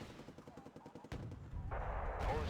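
Rapid gunfire in a tank-focused war video game hammers out in a regular rhythm, then gives way to a louder, sustained roar of heavy firing and explosions.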